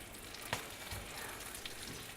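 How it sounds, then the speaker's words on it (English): Brown sugar and butter bubble in a pan for homemade granola, a faint, steady sizzle with a few soft pops. "Oh, it's bubbling busters."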